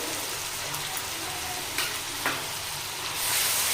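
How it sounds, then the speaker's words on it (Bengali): Ginger, garlic and green chilli paste hits frying onion and tomato in a pan, a loud continuous sizzle with a couple of sharp crackling pops as it is stirred in. "এখানে তো আছে কাঁচা লঙ্কা আদা রসুন বাটা দিয়ে এটাও দিয়ে দেবো দেড় চামচ মতো"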